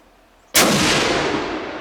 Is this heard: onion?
no